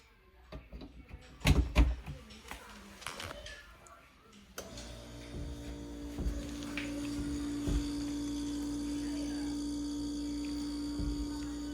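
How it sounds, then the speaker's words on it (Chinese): A refrigerator being plugged in during a repair: some handling knocks and thumps, then the compressor kicks in with a sudden, steady low hum that keeps running close by, with occasional faint clicks over it. "压缩机已经运转了"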